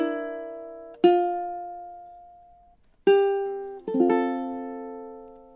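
A ukulele picks out part of a song melody, a few plucked notes and chords spaced about a second or two apart, each ringing clearly and decaying in a quiet room.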